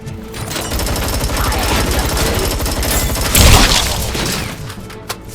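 Rapid automatic gunfire from the Robocop Rogue City video game rattles loud and continuous, with a heavier booming impact near the middle and a last sharp crack as the burst ends.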